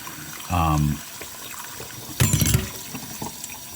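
Water runs and splashes in a sink while motorcycle brakes are washed, coming in two short bursts of close gushing between quieter stretches of room noise.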